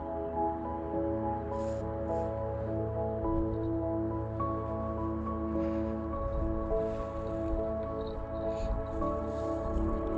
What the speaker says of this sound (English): I can hear a wee boat out there.